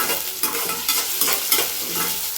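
Onions for watermelon chutney frying in a pan and being stirred, a continuous bright sizzle punctuated by regular scraping stirs about every half second, close and loud with no talking.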